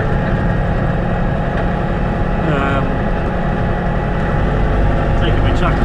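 A farm tractor engine idles on a wet, muddy farm, giving a continuous low, even rumble at close range with a steady mechanical drone and someone talking over it.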